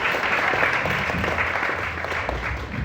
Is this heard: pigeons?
no